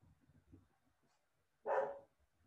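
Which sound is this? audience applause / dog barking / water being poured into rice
dog barking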